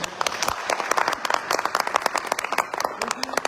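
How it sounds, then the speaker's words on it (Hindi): Crowd applause, a dense, steady patter of many hands clapping throughout, with a few voices mixed in. "स्थापना करने वाले डॉक्टर संजीव सर को मैं चाहूँगा सर एक जोरदार ताली।"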